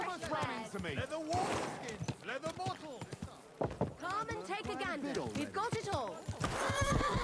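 A horse in the Kingdom Come Deliverance 2 video game whinnies repeatedly in loud, descending neighs while hooves clip-clop alongside, close and prominent throughout.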